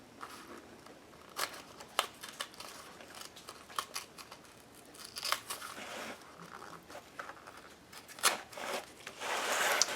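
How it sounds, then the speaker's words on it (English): Paper torn away from the edge of a watercolor-painted drop down tag, heard as a run of short, close ripping and scratching bursts with no talk. "I'm just going to rip off the extra."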